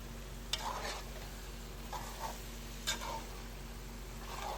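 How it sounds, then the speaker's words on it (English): Chicken stew being stirred in a pot, Virgin Islands style, a soft steady simmer and sizzle with several scraping spoon strokes and light clicks against the pot at regular intervals. "you're gonna continue to stir, and incorporate all those flavors and those items"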